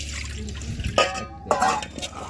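Water drained off washed banana flowers in a home kitchen, two short splashing pours over a quiet background.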